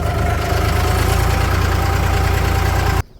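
A tractor engine idles close and loud with a steady low rumbling chug, cutting off abruptly at the end.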